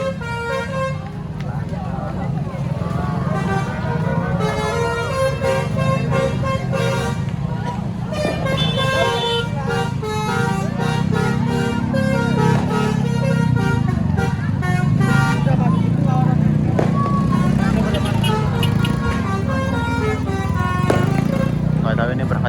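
Musical telolet bus horns blare repeatedly at night among crowds and traffic in Jakarta's Kota Tua, loud melodic honks overlapping over engine rumble with people talking throughout.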